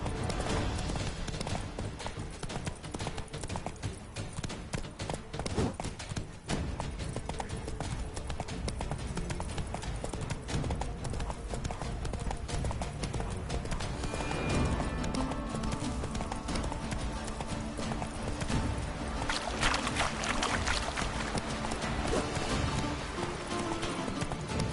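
Geralt's horse Roach gallops in The Witcher 3, with rapid, rhythmic hoofbeats pounding on without pause over game ambience and a faint snort or whinny.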